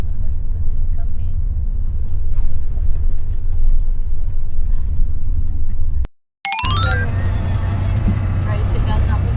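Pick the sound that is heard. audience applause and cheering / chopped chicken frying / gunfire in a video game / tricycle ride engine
tricycle ride engine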